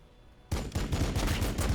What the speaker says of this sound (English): So that's why these guys are shooting into them.